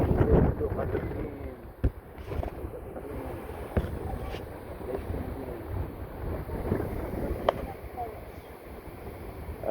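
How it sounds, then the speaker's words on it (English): Strong wind buffets the microphone outdoors in Las Vegas on a windy day, a continuous rumbling roar with gusty swells and a few sharp knocks, while people talk faintly underneath. "yeah, it's a windy day today"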